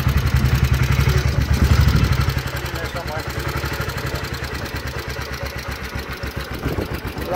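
A 1947 BSA C10 250cc motorcycle engine idles with a rattling top end, a close, steady, fast-pulsing thrum with mechanical clatter, while voices talk over it.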